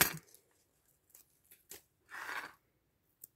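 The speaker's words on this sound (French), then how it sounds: "Je vais le couper avant." Scissors snip through a paper Easter tag in several short, close cuts, then a longer rustling cut and a final faint snip, with quiet gaps between.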